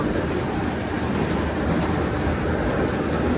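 A Dasmesh combine harvester engine runs with a steady, loud mechanical rumble and dense low-end roar, continuously without a break, close by.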